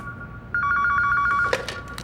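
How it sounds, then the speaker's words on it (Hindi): A landline telephone rings with a steady electronic bell tone, one sustained ring burst followed by a brief clatter, heard alone and fairly loud in an indoor room. "हमें लैंडलाइन पर एक फोन आ रहा है"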